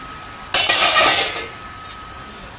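A cooking pot opened after steaming a sweet, a sudden metallic clatter of the lid followed by a bright hiss of released steam and a later clink, close and fairly loud.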